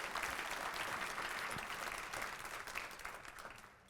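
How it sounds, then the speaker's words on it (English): Audience applause at the 30th Annual Human Rights Awards ceremony, a broad wash of many hands clapping at moderate distance, fairly quiet overall and gradually tapering off near the end. "Let's give everyone a round of applause and welcome."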